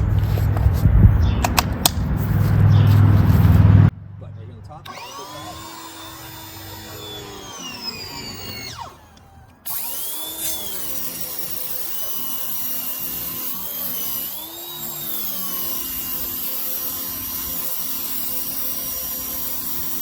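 A Ryobi 2000 PSI electric pressure washer with a turbo nozzle cleans a deck: a loud, low rushing blast at first, then a softer whining motor tone that rises and falls as the spray works.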